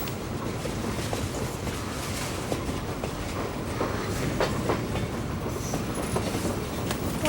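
Train rolling along rails, a steady rumbling roar with faint clickety-clack of wheels, continuous and fairly loud with no voices.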